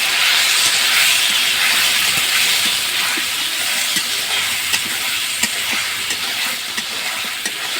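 Masala spice paste frying in a pan with a splash of water, giving a loud, steady hiss and sizzle throughout, broken by faint scraping clicks of stirring.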